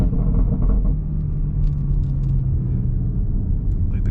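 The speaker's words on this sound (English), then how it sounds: "jeez, bro, these burbles, I gotta turn them off" Deep, steady exhaust rumble from a stage 2 tuned BMW X3M CS, loud and close throughout, with a low droning tone and faint crackly burbles near the end, no talking.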